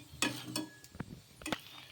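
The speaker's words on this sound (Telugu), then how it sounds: "ఇలా ఈ విధంగా రెండు సైడ్ల కూడాను నూనె వేసేసుకొని కాల్చుకోవడమే." A flaxseed paratha sizzles in oil on a pan over a medium flame, with a low frying hiss under a few louder scraping and stirring bursts.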